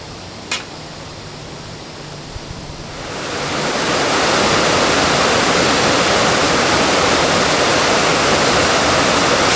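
Rushing water of a mountain valley stream beside a summer campsite, faint at first and then swelling into a loud, steady broadband roar that fills the rest of the clip with no talk.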